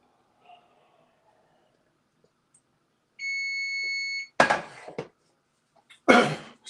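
A kitchen alarm emits a single sustained electronic beep for about a second during home cooking, followed by a couple of abrupt, noisy bursts nearby.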